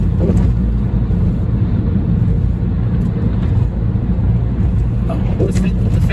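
A car being driven gives a steady, loud low engine and road rumble from inside the cabin, continuous throughout with no letup and a few faint higher clicks.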